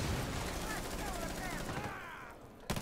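Gunfire in the shooter game Rainbow Six Siege, a rapid burst of shots heard faintly under a voice talking, fading out near the end.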